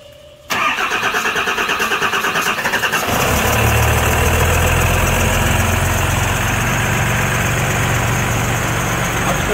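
A Cummins diesel engine in a Ford truck cranks briefly, then fires and settles into a steady, loud, close rumbling idle that runs to the end with no talk.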